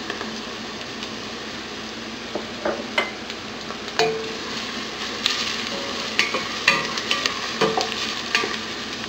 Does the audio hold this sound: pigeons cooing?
no